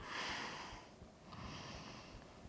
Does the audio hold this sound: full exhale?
yes